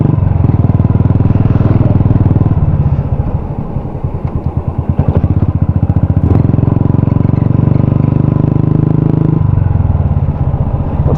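A BS6 Royal Enfield Classic 350 motorcycle engine idles with a steady, throbbing thump close by, its pulse slowing briefly in the middle before settling back to an even rumble.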